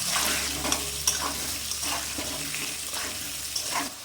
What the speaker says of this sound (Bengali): 4-5 মিনিট পর আলুগুলো ভাজা হয়ে গেছে